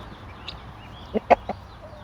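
A few short clucks from a chicken, spaced out over a quiet background, fairly close and moderately loud.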